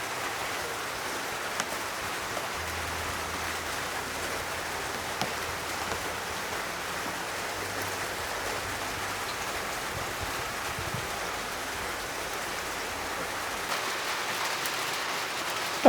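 Steady rain from Typhoon Saudel pours down at night on a mini farm in the Philippines, a constant, even hiss with a few faint drips and a low rumble beneath.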